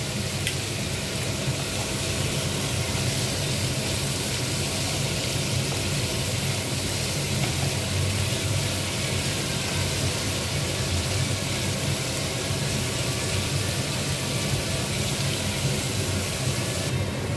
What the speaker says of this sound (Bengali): দিয়ে দেবো পেঁয়াজ কুচি, পেঁয়াজগুলো লাল করে ভেজে নেব